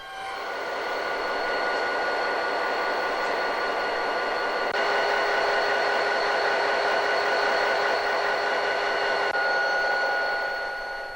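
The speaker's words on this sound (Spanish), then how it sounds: "Este es el Sur Express, procedente de Lisboa y Porto, que llega a Hendaya a las 9 horas de la mañana." The Sud Express passenger train from Lisbon and Porto arrives at Hendaye station. A steady, loud rolling rumble carries high brake and wheel squeal tones that ring throughout, with no talk.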